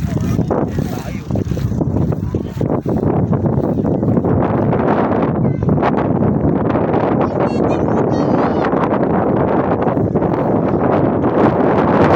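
Strong wind buffets the microphone with constant loud rumbling and roaring gusts, and voices talk faintly beneath it.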